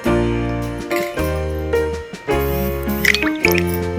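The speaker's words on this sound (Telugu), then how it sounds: "ఇప్పుడు ఇందులోకి వాటర్ అనేది యాడ్ చేసుకోవాలి." Water poured into a bowl of masala buttermilk, heard as loud close gurgling glugs with rising bubbly pitch, pouring in several uneven spurts with short breaks, no talk.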